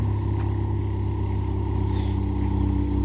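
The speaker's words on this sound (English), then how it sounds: "There's a little exhaust clip for you. Sounds pretty good." A 2016 Ford Focus ST with an aftermarket exhaust idles steadily, giving a deep, even rumble that is loud and close and carries no talk over it.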